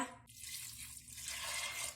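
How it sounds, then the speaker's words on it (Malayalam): Water pours in a thin, steady stream into a pressure cooker pot on a stove while green gram is being cooked, a quiet trickling splash close by with no talking. "വെള്ളം ഒഴിക്കുക."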